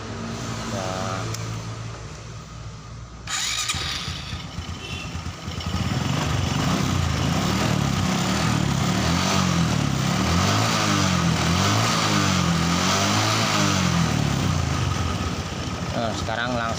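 A Honda Supra X 125 motorcycle with a worn, stiff carburetor membrane sits idling close by. After a brief pause, the engine settles into a continuous, even putter, with someone talking over it.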